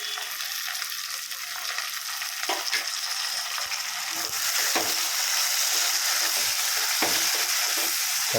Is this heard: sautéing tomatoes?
yes